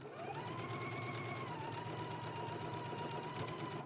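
A domestic sewing machine runs steadily at an even speed, basting a collar along the neck edge of a Simplicity S3216 Gunne Sax dress, its close mechanical whir and rapid ticking continuous and alone.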